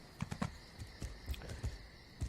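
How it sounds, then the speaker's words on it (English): Horse hooves clopping at a normal walking pace in the video game ESO, a steady run of soft, moderately close hoofbeats in an uneven rhythm, with faint background ambience. "This is the normal speed of the horse."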